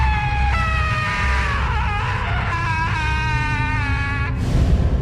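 A woman's horrible drawn-out scream as she burns, a sustained wavering wail in a horror story effect, loud and continuous over a dense background rumble.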